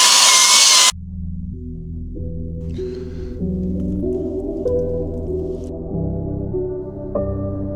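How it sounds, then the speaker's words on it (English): A brief loud whir opens, then a power drill runs steadily while stripping paint from a van, its motor pitch stepping up and down as the speed changes. "Let's give it a drill."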